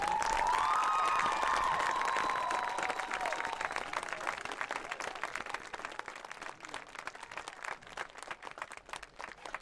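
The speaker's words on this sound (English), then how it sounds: "we ask that you give a round of applause to Rodney and his family" Crowd applause and cheering in the stands at a high school varsity football game, loud sustained clapping that gradually thins and fades a little over several seconds, with scattered shouts mixed in.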